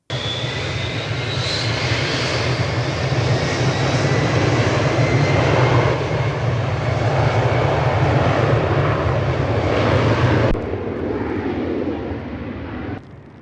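An Ilyushin Il-62 cargo plane of a Belarusian cargo company, flying medical charters, roars at Lisbon airport: its jet engines make a loud, sustained, deep rumble with a high whine, then cut off sharply near the end.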